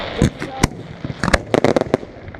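Fireworks at a 4th of July pyrotechnic show, heard up close as a rapid irregular series of sharp bangs and crackling bursts, several loud reports clustered together over a few seconds.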